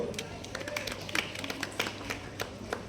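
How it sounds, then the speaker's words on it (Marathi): Scattered claps from an audience at a public Shiv Jayanti festival gathering, fairly faint and uneven, sharp hand strikes over a low steady hum. "एकदा टाळ्या वाजवा याच्यासाठी"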